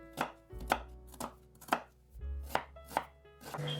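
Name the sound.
knife chopping onion into cubes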